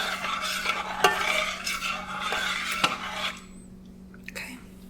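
Ingredients stirred in a cooking pan, a steady close scraping swirl with a few sharp utensil clicks against the pan, fading to near quiet at the end.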